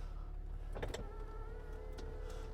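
Electric memory seat and steering-wheel motors whir in a 2012 Range Rover Sport 3.0 SD V6 HSE, with a couple of soft clicks followed by a faint, steady motor whine inside the quiet cabin.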